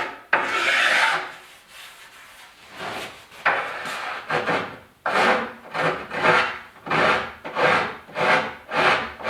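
A hand file rasps back and forth across dried glue that seeped out along a newly installed bathroom countertop, a steady train of close, scratchy strokes that quicken into an even rhythm toward the end, with no talking.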